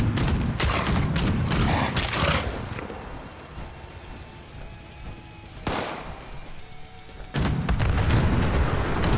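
A Furious Gatling Gun in Fallout 76 with a faster fire rate rattles off long, rapid bursts of heavy booming gunfire, broken by short pauses, loud and close throughout.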